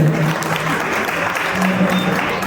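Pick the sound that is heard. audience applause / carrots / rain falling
audience applause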